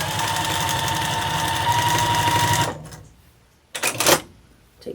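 A home sewing machine stitches a scrappy mug rug with a steady, rapid whirring chatter that stops abruptly partway through, followed by a brief pause and a couple of short bursts of handling noise.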